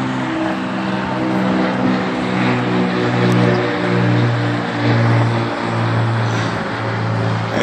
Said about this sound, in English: Got another plane.